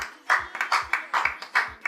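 Hand claps from a celebration crowd applauding the dancer Nadège, loud and near, a brisk series of crisp slaps in irregular rhythm, standing alone without voices.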